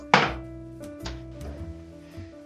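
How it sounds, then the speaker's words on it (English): Chunks of beetroot and pear drop into a cooking pot with a sharp thunk, followed by a few softer knocks and clatters, close and fairly quiet. "in with the beetroot, in with the pear."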